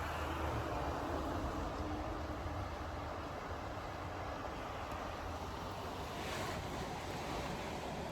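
The Yellowstone River rushes steadily outdoors, a dense, continuous roar of flowing water with some wind buffeting the microphone and no voices.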